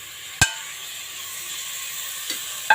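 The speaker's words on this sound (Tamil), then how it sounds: "நான் வந்து ஒரு மூணு தக்காளி கட் பண்ணி வச்சுருக்கேன் அதை போட்டு வதக்கிக்கலாம்" Chopped tomatoes sautéing in a pan for mutton curry, a low steady sizzle broken by a sharp metal clank and a couple of softer utensil knocks, close up with no talking.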